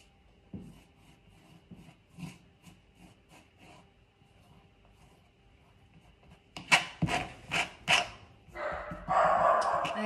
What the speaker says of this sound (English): a bit of an interruption from the dog